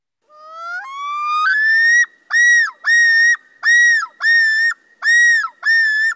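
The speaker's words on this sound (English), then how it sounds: "That's one of the common loon sounds" A common loon calls over coastal marine waters, first a long rising wail that climbs in pitch, then a run of six or seven loud, clear, evenly spaced yodeling notes, close and alone.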